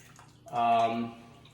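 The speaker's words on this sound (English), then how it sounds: "I like to have a denser tomato product, so I'm gonna put it back into the can." Tomato puree is poured back into its can, a short thick gurgling splash that swells briefly and fades, quiet and close.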